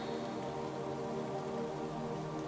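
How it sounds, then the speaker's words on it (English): Steady rainfall in a forest, a soft continuous patter of drops on leaves and ground, even and unbroken throughout with no voices. "The rain soothes you"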